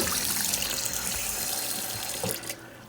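Cold tap water runs steadily into a sink as jalapeños are rubbed and rinsed under it, a loud, even rush that drops off slightly near the end.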